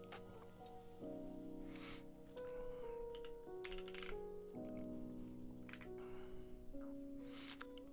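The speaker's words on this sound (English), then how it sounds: "Taking requests for background typing music." Keys clatter on a computer keyboard in scattered bursts of clicks, half-buried under steady synth background music that plays throughout.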